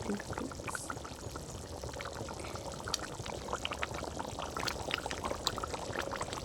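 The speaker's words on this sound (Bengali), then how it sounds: "এবারে পরিমাণ মতো জল দিয়ে দেবো।" Water pours into a cooking pot of mung dal: a steady splashing, gurgling stream for several seconds with some sizzling bubbling underneath, close and fairly quiet, no talking.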